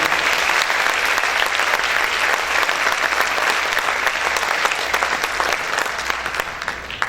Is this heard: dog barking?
no